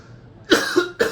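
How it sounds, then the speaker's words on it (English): A person at a retreat session coughs in a short burst: a brief pause, then three sharp, close coughs in quick succession, loud and dry against a quiet room. "I'm making myself cough now"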